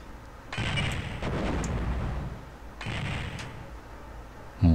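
Mines blow up in the Star Wars: Dark Forces video game, two loud blasts with rumbling tails, each lasting about a second, and then a sharp sound at the very end.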